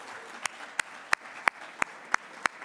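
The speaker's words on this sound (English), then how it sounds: "just to give a round of applause for our servers tonight" Sparse applause at a gala dinner honoring servers and hotel staff, a handful of distinct sharp claps at a steady rhythm over a quiet room murmur, close and moderately loud.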